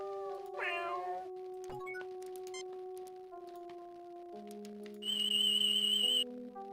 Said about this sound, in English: An ordinary house cat, Felis catus, a common human pet.